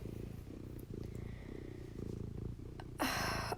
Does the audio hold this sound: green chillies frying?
no